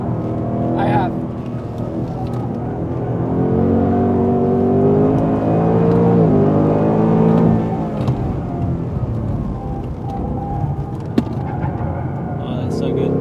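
A car accelerates on a hot lap, its engine rising and falling in a steady loud rumble with shifting pitch, heard from inside the cabin as people talk over it.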